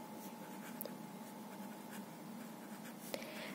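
Pen or marker writing on a board during a biology lesson on X-linked inheritance, a faint steady scratching with a few brief taps, quiet throughout with no talk.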